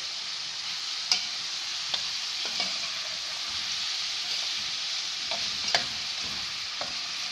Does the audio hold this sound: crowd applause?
no